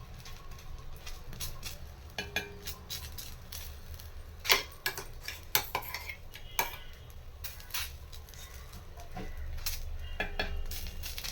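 A ladle spreads garlic paste across a dosa on a hot pan, giving soft scraping strokes with scattered sharp clinks and taps of metal against the pan, close up and fairly quiet.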